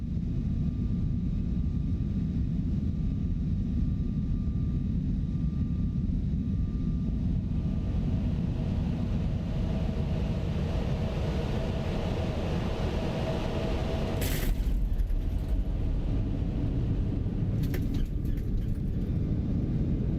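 An X-Crafts Lineage 1000 business jet in X-Plane 12 produces a steady, broad engine roar throughout, with a constant low rumble and faint high whine, plus a couple of brief clicks or switch sounds near the end.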